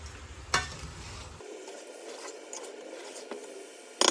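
Garlic shrimp sizzle softly in a pan, a steady faint frying hiss with a few clicks and stirring scrapes of the utensil.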